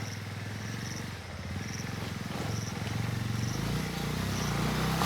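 A motorcycle rides a rough, gravelly mountain road between Pokhara and Gorkha in Nepal, its low engine rumble steady and fairly faint, swelling slightly toward the end.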